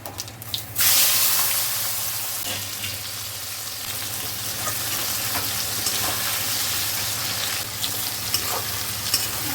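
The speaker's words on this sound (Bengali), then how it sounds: "তেজপাতা জিরে ফোড়ন দিচ্ছি গোটা জিরে পেঁয়াজ কুচি দিচ্ছি" Bay leaf and whole cumin tempering in hot oil, then chopped onion dropped in, a loud burst of sizzling that settles into a steady crackling fry with occasional stirring scrapes.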